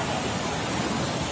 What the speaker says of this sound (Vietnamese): là cái suối to nhất ở khu vực mình